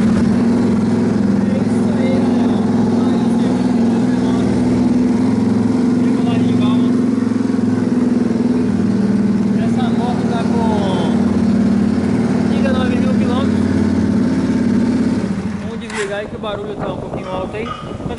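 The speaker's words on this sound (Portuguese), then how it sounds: "Vou ligar ela aí, tá com escapamento esportivo, barulhento" A Dafra Next motorcycle engine idles loud and throaty through a sport exhaust, steady rumble for a long stretch before dropping off near the end, close up.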